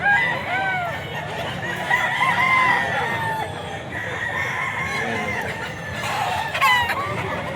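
A bull stag gamefowl rooster at a pet market crows and clucks repeatedly, close and loud over steady market chatter and background noise.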